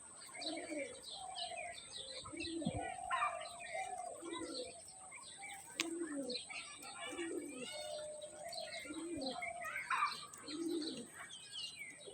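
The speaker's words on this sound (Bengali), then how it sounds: "ঘনবাজির কবুতর এটা" Ghonobaji rolling pigeons coo in low repeated phrases close by, with chirps and light wing flutter, under someone talking throughout.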